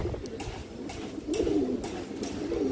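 A large, old-bloodline pigeon coos softly in a few low, throaty rolling phrases at close range, with light background noise and no talking.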